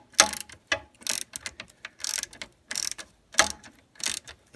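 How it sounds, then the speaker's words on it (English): 10mm socket on a ratchet working loose an alternator connector on a 2003-2004 Ford Mustang SVT Cobra, giving bursts of crisp clicking ratchet strokes close to the mic with brief pauses between them. "So this is a 10mm socket that we're using."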